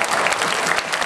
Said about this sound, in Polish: Brawa gorące.